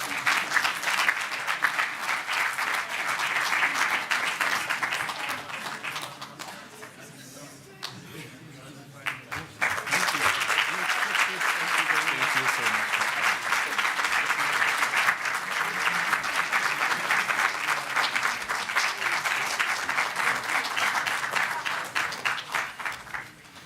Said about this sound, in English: please let's clap the hands when we give the present to our speakers